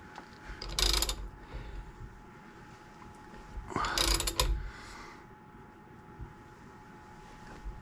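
A half-inch ratchet clicks in two bursts while loosening the pinion yoke nut on a GM 14-bolt axle, close and mechanical against a quiet shop background.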